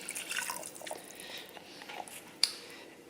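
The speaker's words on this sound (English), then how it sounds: "I'm going to add water to this." Water is poured into a pot of cooked onions for French onion soup, giving soft liquid trickles and drips at close range, with a sharper splash or clink near the end.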